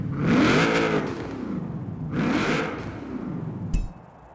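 A 1992 Nissan Silvia Club K's in Forza Horizon 4, tuned for drifting and C-class racing, revs up loudly twice in long rising and falling sweeps, with a short sharp clunk near the end.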